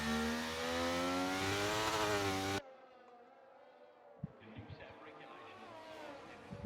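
Formula 1 racing cars in a video game at the Netherlands track, with a loud engine roar for the first seconds that then cuts to a quieter stretch of distant engine noise and small thuds as a car spins on a corner exit.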